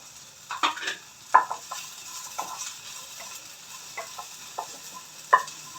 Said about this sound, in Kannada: ತೆಂಗಿನಕಾಯಿ ತುರಿ, ಇದನ್ನು ಸ್ವಲ್ಪ ಫ್ರೈ ಮಾಡ್ಕೊಬೇಕು